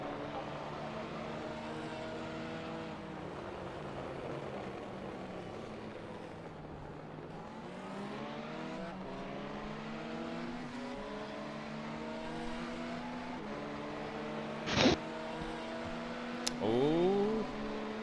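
Several race car engines in a sim racing game at the Spa circuit, including a Ferrari, whining and shifting through rising and falling gear pitches, steady and fairly close, with a couple of brief knocks near the end.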